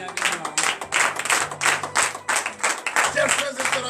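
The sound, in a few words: congregation clapping and cheering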